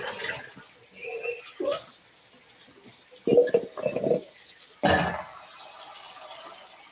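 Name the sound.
water running while washing tomatoes at the sink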